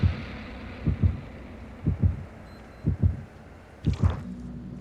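A deep, thumping heartbeat from the video game Friday the 13th pulses in steady lub-dub pairs about once a second. It is loud and low over a faint hum, with no talk.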